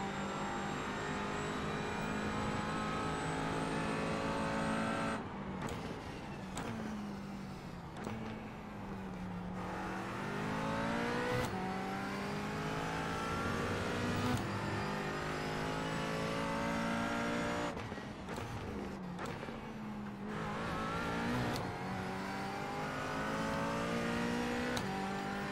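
A GT4 race car's engine at Daytona under the lights, heard from the cockpit, loud and continuous, revving up and down through repeated gear shifts and throttle lifts with sharp drops around each shift.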